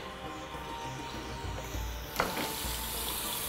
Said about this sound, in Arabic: هنشوحها في الزيت مع بصل